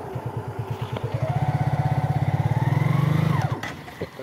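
A motorcycle engine idles with a rapid, even chug, then revs up as the bike starts to pull away, loud and close, before dropping off near the end.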